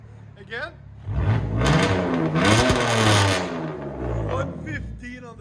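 Close, loud revving from a 2002 BMW 325i inline-six with straight pipes, one sustained climb and hold before dropping back to a rough idle, with a voice faintly heard around it.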